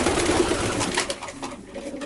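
A domestic pigeon of the Dolle line cooing close by, a low rolling coo over a second or so against faint background noise.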